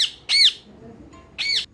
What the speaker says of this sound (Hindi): ये रहा मेरी खाला का तोता, जिसको सिर्फ चीखने का पता है